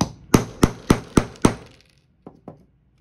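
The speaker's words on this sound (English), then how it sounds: "I'm gonna hit it from the end with the ball peen side of my hammer." A hammer strikes an eyelet setting tool into painted wood with five sharp, evenly spaced close blows, then two lighter taps after a short pause.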